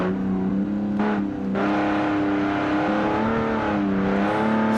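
A video game race car built by Makalel runs a test track time trial, its engine holding a steady, loud drone with shifting pitch and brief revving changes throughout.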